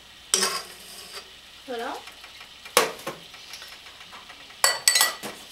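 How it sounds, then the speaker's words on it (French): Stirring of baklava filling in a bowl, with a few scraping strokes and clinks of a utensil against the bowl between quieter pauses, close up, with brief talking. "Et on mélange encore."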